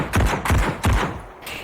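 Three quick bursts of gunfire in the VRChat game, each a sharp crack with a deep thumping body, spaced about a third of a second apart and fairly loud, followed by a quieter fourth shot near the end.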